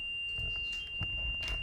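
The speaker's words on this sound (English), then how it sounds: "If you hear that chirping, it's our little toys that we have" Small light-up ghost-hunting toys give a steady, thin electronic tone that runs through the whole short moment inside an old sanitarium house, with faint rustling and room noise around it.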